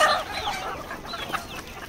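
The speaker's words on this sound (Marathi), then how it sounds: "सर्व कोंबड्या आलेल्या आहेत." Chickens at a poultry farm shed cluck and chatter close by in a continuous, busy flock sound with overlapping calls and no speech.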